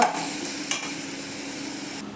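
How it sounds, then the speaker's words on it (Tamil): Mutton pieces being stirred into a pan of Chettinad mutton chukka curry, a close scraping stir with one sharper knock of the spoon against the pan over a continuous sizzling fry, no voices. "சேர்த்து நல்லா கிளறி விடணும்."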